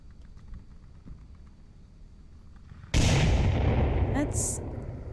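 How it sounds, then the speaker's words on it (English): Gunfire in the VR shooter Onward erupts after near-quiet faint tapping, a sudden loud burst of shots and rumbling reverberation that continues to the end. "shots and callouts ring out"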